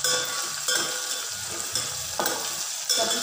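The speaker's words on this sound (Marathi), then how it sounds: "आता यामध्ये कढीपत्ता जो आहे तो छान असा तळून घ्यायचा" Curry leaves fry in oil after lima beans, a loud, close crackling sizzle with a few bursts of spattering and faint stirring.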